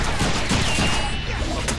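A dense burst of gunfire rattles in the Deadpool video game, rapid overlapping shots over loud game noise, all within a couple of seconds.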